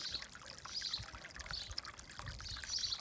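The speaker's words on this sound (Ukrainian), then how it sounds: "Дивіться, 50 градусів вода тече." Hot water at about 50 degrees pours and trickles out of a garden hose outdoors, a steady soft splashing flow with faint bird chirps above it, quiet and without talk.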